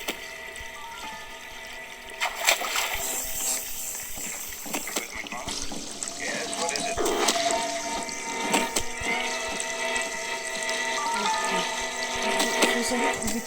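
Running water in the video game Hello Neighbor Act 2, a steady broadband rush that continues through the clip under game sounds and scattered clicks, with speech-like noise mixed in.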